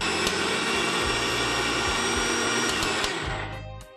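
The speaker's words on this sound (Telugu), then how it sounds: "మనం తగినంత నీళ్లు వేసుకుని మిక్సీ పట్టించాలి" A mixer grinder whirs loudly and continuously while blending chutney with water, a dense motor roar with rhythmic churning, then winds down at the end.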